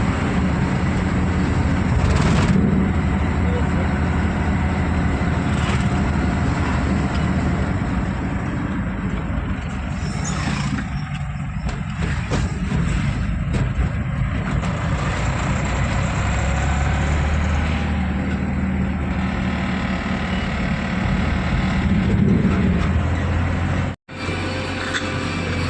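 A pickup truck drives along a road with a continuous loud engine drone and road rumble from inside the cab, steady throughout with brief rattles and one sharp dropout near the end.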